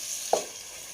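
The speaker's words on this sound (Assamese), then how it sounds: "এই গোটেইখিনি ভাজিলোঁ নিমখ দি পেলাই" Tomatoes and spices frying in a pan for a goat meat curry in a home kitchen: a soft, steady sizzle with one brief stir or scrape partway through, close and without talk.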